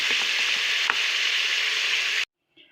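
Garlic sizzles steadily in hot oil, a loud, even crackle with a few sharper pops. It cuts off abruptly near the end, leaving near silence.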